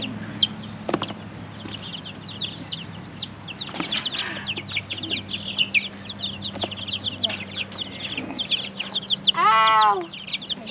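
Chickens cluck and squawk repeatedly as they are grabbed in a messy coop, close and loud, with a burst of frantic squawking near the end and people talking over the birds.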